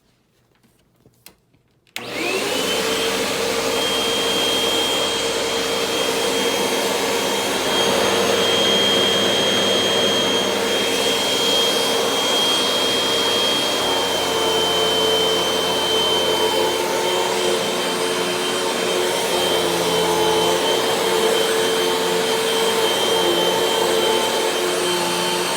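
A Hoover Rewind UH71013 vacuum cleaner, worn after four years of heavy use, switches on with a click and settles into a loud, steady whining roar close by, running without talk.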